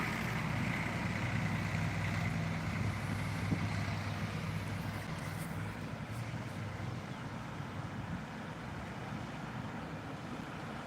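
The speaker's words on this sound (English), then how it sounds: "just look at that tractor" A tractor engine passing outdoors, a steady low droning rumble that stays fairly loud and constant, then eases slightly in the second half, with light wind noise and no talking.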